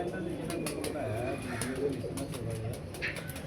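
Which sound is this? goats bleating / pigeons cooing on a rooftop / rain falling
pigeons cooing on a rooftop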